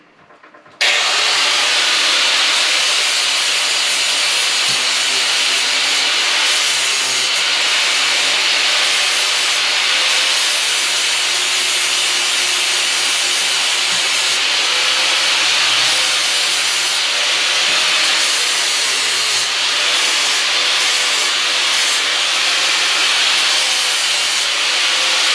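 Flail mower blades having their front side polished on a power grinder or polisher, a loud, continuous, close hissing whine that holds steady throughout with small fluctuations and no talking.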